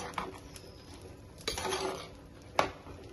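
Ash gourd and onion being stirred in a pot for a white pumpkin kuzhambu, with a few scattered clinks of a utensil against metal and soft scraping, one sharper knock near the end, no talk.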